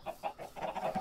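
Chickens cluck in a Minecraft-style survival server game, a short run of repeated quick clucks at moderate level with no talk.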